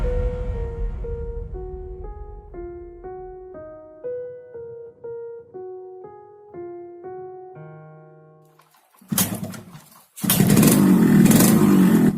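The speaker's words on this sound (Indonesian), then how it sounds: "Tak asingkan dengan suara motor ini. Ini adalah RX King dengan mesin 2 taknya yang khas." A Yamaha RX King two-stroke motorcycle engine bursts in loudly after a stretch of stepped tonal notes, first a short rev then a sustained, raspy buzzing run near the end.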